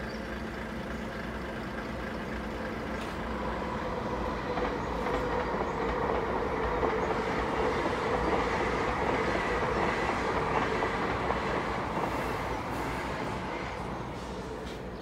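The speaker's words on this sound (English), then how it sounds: "There's their train, the Island Chieftain for Inverness" The Island Chieftain passenger train bound for Inverness passes a level crossing, a steady mid-distance rumble of wheels and engine that swells slightly and then holds.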